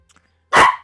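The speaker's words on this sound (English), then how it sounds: "my little dog likes to harass me while I'm streaming" A small dog lets out a single loud, sharp bark close by after a brief quiet moment, alone with no speech.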